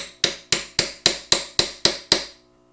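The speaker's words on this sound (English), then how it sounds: "Going to take our little chisel. Bust that metal down." A small chisel hammered against the metal of a brake rubber boot on a 2013 Chevy Tahoe rings out as eight sharp, evenly spaced metallic strikes, loud and close, each decaying quickly, then a short fade to quiet.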